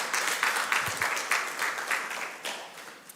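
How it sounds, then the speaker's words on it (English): Conference audience at a fintech event clapping in a short, uneven burst, with individual claps standing out in loose pulses before it thins and fades away. "I think this is the point where you clap as well."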